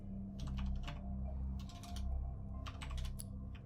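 Rapid keyboard typing in bursts of clicks over a steady low background hum, the keystrokes clustered in several quick runs during a Creativerse game session.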